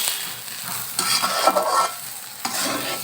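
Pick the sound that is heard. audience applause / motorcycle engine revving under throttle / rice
rice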